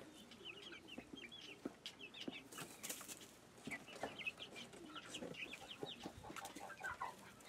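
Several hens clucking close by in a backyard flock, overlapping short clucks and murmurs in an irregular stream with occasional sharper calls.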